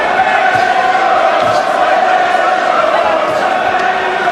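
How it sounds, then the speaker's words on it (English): A boxing crowd roars steadily for Enzo Maccarinelli in his fight against Garry Delaney, a dense, continuous wall of cheering and shouting that stays loud throughout. "Crowd trying to lift Maccarinelli again."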